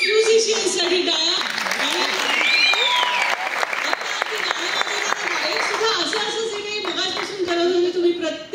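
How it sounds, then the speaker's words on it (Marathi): Audience applause for the musicians at a Hindi-Marathi musical evening, a dense run of clapping lasting several seconds, with a voice speaking over it. "एकदा सर्व म्युझिशियन्ससाठी टाळ्या।"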